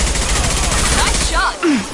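Heavy rapid gunfire from Mass Effect 2, dense overlapping bursts rattling continuously, with a voice shouting over the shooting.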